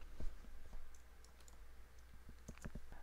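Sparse, scattered mouse clicks on a computer while working in a security dashboard, a few light taps spread out over quiet room tone with no talking.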